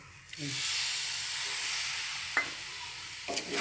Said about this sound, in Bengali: এবার ভালো করে নাড়তে থাকতে হবে, নাহলে সুজিটা তো ডেলা পাকিয়ে যেতে পারে